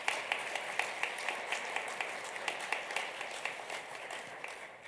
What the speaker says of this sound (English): let's give another round of applause for all of our winners